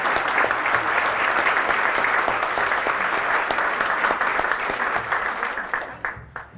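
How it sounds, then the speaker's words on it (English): An audience at a New York State education regional meeting claps for facilitators and recorders, a steady dense round of applause that holds strong before thinning out and fading at the end. "Can we please give them a big round of applause?"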